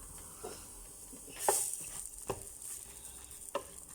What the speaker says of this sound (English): So we're going to let these go down first. And then we'll add more until all of it is sauteed.